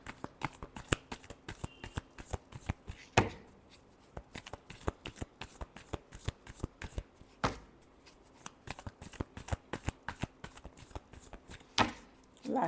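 Tarot cards shuffled by hand close up, a rapid run of crisp riffling clicks and flaps in bursts, broken by a few brief pauses and sharper slaps as the deck is squared.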